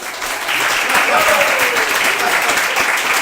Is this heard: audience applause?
yes